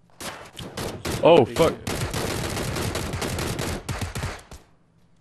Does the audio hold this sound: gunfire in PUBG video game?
yes